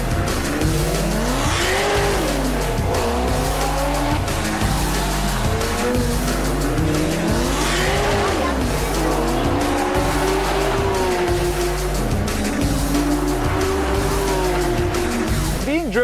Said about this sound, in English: Being driven around the Long Beach Grand Prix is fun and all